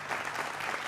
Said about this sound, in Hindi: जोरदार तालियों से आप सबका अभिनंदन है